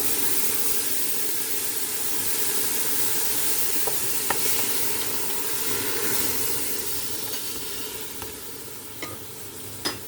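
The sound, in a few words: seafood medley sizzling in a hot pot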